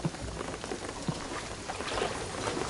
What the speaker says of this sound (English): What I'm telling you is the rain is gonna flood the...